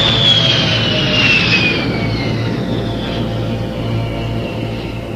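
An airliner takes off in a radio drama, a loud sustained jet roar with a high whine sliding downward as the engines power up and the plane climbs away.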